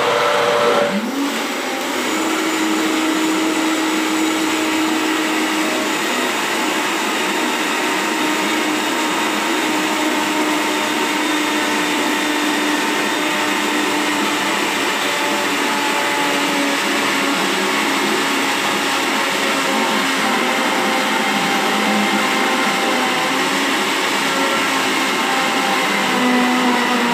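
A blender runs steadily, whirring through thick raw vegan salted caramel cheesecake filling, loud and continuous with no talk.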